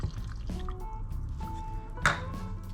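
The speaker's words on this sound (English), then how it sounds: "Just pour the water in." Water poured into ground flaxseed in a bowl for a brownie batter, a soft wet dribble and splash with a brief louder splash near the end, close and fairly quiet.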